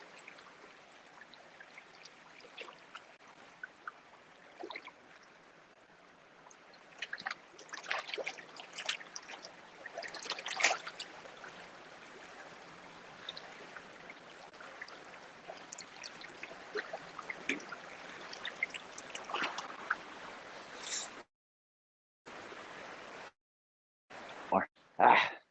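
A river stream flowing in a steady, faint rush, heard close with brief louder splashy bursts, sporadic clicks and a few gaps near the end.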